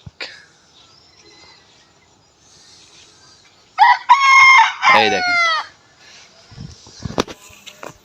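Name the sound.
rooster crowing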